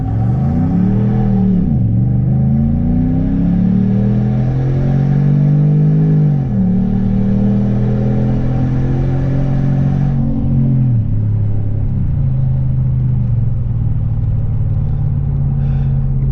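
A 2016 Ram truck with a Hemi V8 and tuned transmission accelerates hard in two-wheel drive, its loud close engine drone climbing in pitch through several upshifts, each marked by a brief dip before rising again, with no talking.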